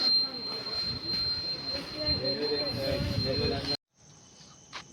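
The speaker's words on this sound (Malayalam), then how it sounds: "മംഗലാപുരം തിരുവനന്തപുരം ഏറനാട് എക്സ്പ്രസ്സാണ് വരുന്നത്" The Mangalore–Thiruvananthapuram Ernad Express rolls in along the track at a Kerala station, a steady rumble of wheels with a high squealing tone, cutting off abruptly near the end.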